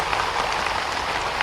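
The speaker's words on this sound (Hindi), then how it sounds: "एक बार जोरदार ताली बजा करके" An audience at a police promotion ceremony in Bhopal claps steadily, a dense, even wash of applause heard up close throughout.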